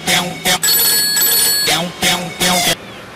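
A telephone rings loudly in a home, with repeated bell bursts separated by short pauses and no speech over them.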